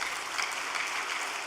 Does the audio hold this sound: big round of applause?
yes